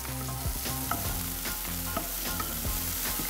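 Fresh onion and a whole garlic clove sauté in oil, a dense steady sizzle close by with a few stirring knocks, no one talking.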